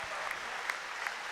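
Crowd at an NCAA basketball quarterfinal applauding a fifth-year senior fouling out, a faint, steady patter of clapping from a distance with a few sharper claps standing out.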